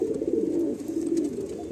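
Steady, throaty cooing comes from Kaldam breeding pigeons kept indoors, a female with a male being paired, as a close, continuous low warble.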